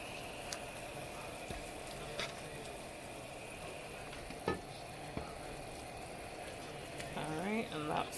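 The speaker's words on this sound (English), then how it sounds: "I just want to give it one good stir" Lamb shanks in red wine braising liquid, with a faint low bubbling and simmer, a couple of soft clunks as a spoon stirs the pot, and a voice talking briefly near the end, all quiet and close.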